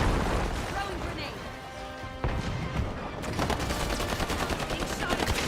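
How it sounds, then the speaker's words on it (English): Rapid automatic gunfire in HighGuard, a shooter game, first scattered shots, then a sharp blast and a dense, steady rattle of bursts in the final seconds, with a voice talking underneath. "Being shot at."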